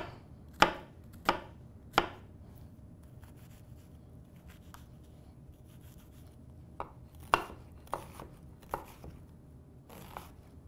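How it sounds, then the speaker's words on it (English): Knife dicing a red onion on a cutting board in a home kitchen: sharp, close chops in short bursts, a few quick strikes early on, a quiet pause, then another run of single chops, with no talking. "we're gonna chop up or dice a red onion"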